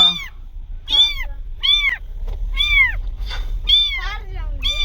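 A kitten trapped in a car meows repeatedly in high, rising-falling cries, close by and fairly loud, with short pauses between calls.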